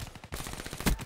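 Submachine gun fire in Call of Duty Black Ops 3 multiplayer, a loud close burst of rapid rhythmic shots lasting about a second with a heavier impact near the end.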